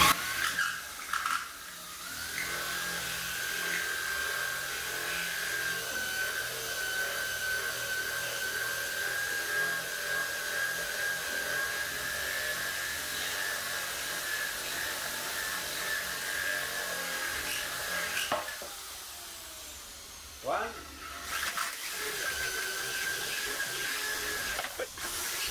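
A diamond circle bit drills drainage holes into the bottom of a slate bonsai pot, giving a loud, steady grinding whine that holds for about eighteen seconds, breaks off briefly, then starts again.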